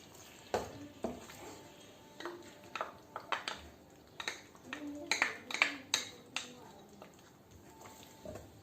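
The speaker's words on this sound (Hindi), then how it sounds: "इसको अच्छे से मिक्स करते हैं।" Cream being stirred into a butter chicken gravy, a spoon scraping and tapping against the pot in scattered soft clinks, with a faint sizzle underneath.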